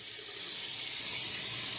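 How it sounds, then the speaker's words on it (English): Water running steadily from a bathroom tap into a sink while a face is wetted before shaving, a constant close hiss with no break and no talk. "I'm just going to wet my face and get to shaving"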